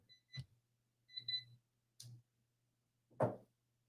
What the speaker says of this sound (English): And there goes the timer, and I'm gonna turn that off